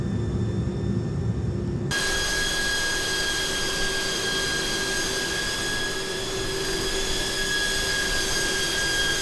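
Airbus A300-600 jet engines in Microsoft Flight Simulator 2020 drone continuously and loudly, a steady roar with sustained high whining tones that jump sharply in level after a quiet opening moment, with no talk.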